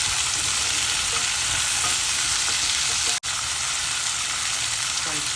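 Garlic and small shallots sautéing in a pan for vatha kuzhambu, a constant close sizzle and crackle with faint stirring scrapes and one short dropout partway through.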